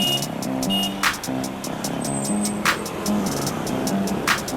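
Road traffic on Alabang Forte Road in Las Piñas on a hot day, with engines droning and vehicles passing close by in a busy, continuous mix and several sharp bursts of noise.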